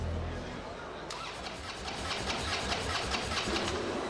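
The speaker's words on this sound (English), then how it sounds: "Now we're going to fill it up with petrol and hope that it starts first time." A custom-built motorcycle engine cranks and catches for the first time, turning over with a rapid rhythmic chatter and settling into a steady mid-pitched running rumble, close and loud, with a voice talking over it.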